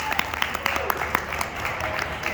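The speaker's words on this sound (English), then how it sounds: "Give Russ a round of applause." An audience at an oddities expo stage show applauds a performer, with scattered claps and cheers at moderate distance beneath a steady crowd murmur.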